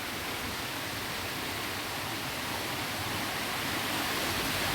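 Dense, unbroken roar of a waterfall at Girnar, loud and steady throughout with no other sounds.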